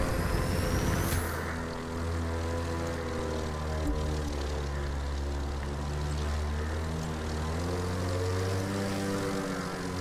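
A propeller airplane in The Crew 2 racing game drones steadily with a loud, continuous engine hum and a rising whoosh at the start, holding close and even throughout with no talk.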